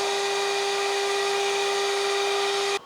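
A CNC router spindle motor spins at about 24,000 RPM under H100 VFD control, giving a steady, loud high-pitched whine with a strong constant tone that holds evenly, then cuts off abruptly near the end.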